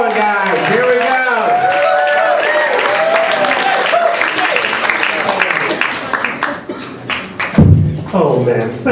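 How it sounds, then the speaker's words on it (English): Comedy club audience at Carolines applauding loudly and steadily, dense clapping with cheers and a voice over it, thinning near the end as a speaker begins talking. "Thank you for the applause."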